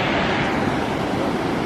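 Water rushes steadily over a small weir waterfall in Durham near the cathedral, a loud, continuous broadband roar with no pauses.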